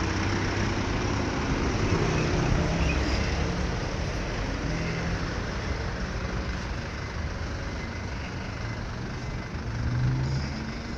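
A city bus pulls up toward a stop in Medellín, Colombia, its heavy diesel engine rumbling steadily through continuous street traffic, with a slight swell in loudness near the end.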